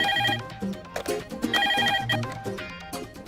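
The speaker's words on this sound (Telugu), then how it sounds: "ఫోన్ చూడు." A telephone rings with a repeating electronic ringtone pattern, fairly clear and close, with a brief voice near the end.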